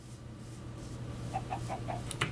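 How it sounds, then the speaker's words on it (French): Chickens in a video game give a short run of soft, evenly spaced clucks, quiet against a low steady background hum, ending with a brief sharper click. "Ah, des poulets."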